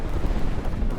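Ship cannons fire in the naval combat game From the Depths as a dense, loud rumble of overlapping booms with no clear gaps, heavy and continuous through the short burst.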